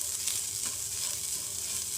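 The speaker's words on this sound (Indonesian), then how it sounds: "masukkan dulu udang kering yang sudah ditumbuk tadi, goreng-goreng sampai dia wangi" Pounded dried shrimp fry in a little oil in a wok, with a steady, close crackling sizzle throughout and no voices.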